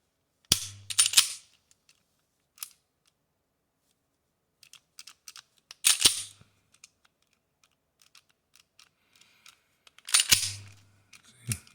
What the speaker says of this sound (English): it either doesn't click, or when you bring it back, it doesn't actually release, and you get a dead trigger